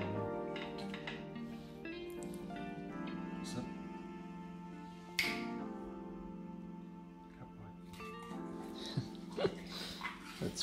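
Dog eating homemade squid rings, with close wet chewing and lip smacks over a soft tonal background hum and a few sharp clicks.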